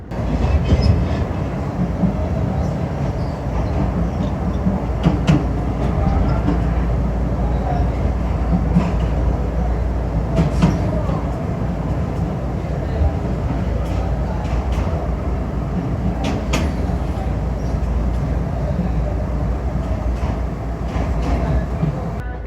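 A small railway motor car rides the tracks in the Philippines, a continuous close rumble with rattling and recurring sharp clicks and knocks from the rails, steady and loud throughout, with occasional voices underneath.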